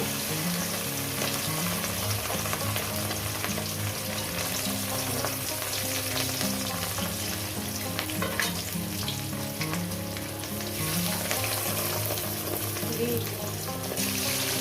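Pieces of katla fish fry in hot oil in a pan, a loud, continuous crackling sizzle that holds steady for the whole stretch with only small flare-ups.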